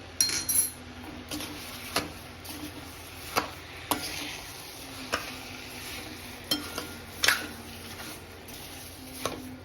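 Sugar and strawberries cooking in a pan over a low flame for jam, a faint low simmer under scattered spoon clicks and stirring scrapes against the pan.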